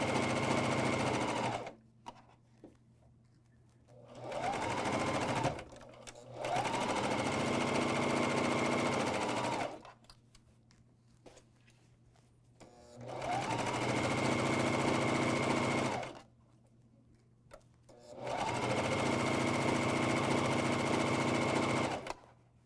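A MyLock 454D serger stitching a pajama top runs in four bursts of steady, fast whirring, separated by quiet pauses; close and moderately loud, with no talking.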